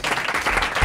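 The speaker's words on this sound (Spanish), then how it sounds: "Un fuerte aplauso para Jeffrey." Loud audience applause in a Spanish comedy show's studio, a short dense burst of clapping from a close crowd.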